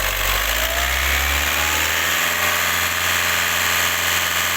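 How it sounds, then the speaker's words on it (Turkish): A car engine with a fault revs hard under full throttle, a loud continuous roar with a rising whine, close by and with no talk. "Yeniden tam gaz."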